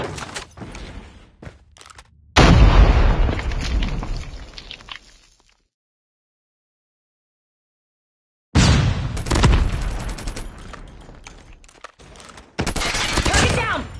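A video game battle with bursts of gunfire and a loud grenade blast, then a long silent gap before more shooting and explosions, up close and loud.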